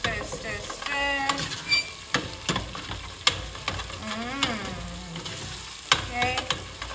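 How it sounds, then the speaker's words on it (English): Tomato paste is stirred in a pot while oxtail cooks, a soft sizzle running beneath irregular scrapes and clinks of a spoon against the pot. Brief snatches of talk come and go over the gentle frying. "Stir, stir, stir."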